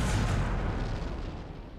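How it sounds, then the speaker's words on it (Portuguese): Naval-era cannons booming in a historical strategy battle game, a continuous rumbling roll of distant artillery fire that slowly fades. "Os canhões já estão atirando"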